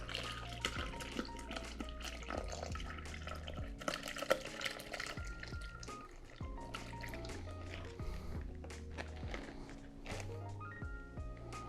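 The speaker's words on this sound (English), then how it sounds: "Want to make sure to press out all of the syrup that you can get out of there." Red Fassionola syrup pressed through a nut milk bag, giving steady wet drips and squishing trickles into a container, continuous and close with faint background tones.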